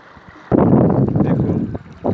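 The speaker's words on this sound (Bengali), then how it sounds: "দেখুন সুন্দরবনের নৌকা মাছ ধরার জন্য যে নৌকা চলেছিল" A Sundarbans fishing boat moves on the water, heard as a sudden loud wash of rushing water and wind buffeting close by, lasting about a second and a half before easing, then surging again.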